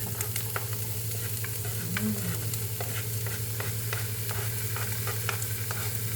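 Vegetables stir-fry in a pan for a healthy lunch, a steady close sizzle with repeated scraping and tossing strokes of a spatula against the pan.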